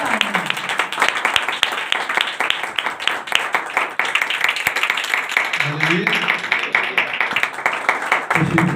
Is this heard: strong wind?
no